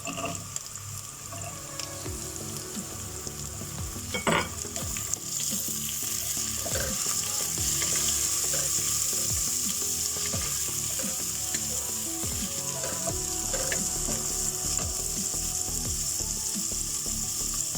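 Onions softening with julienned carrots sautéing in a pan for a chicken tikka rice platter, a steady close sizzle and crackle throughout with a few clinks of stirring.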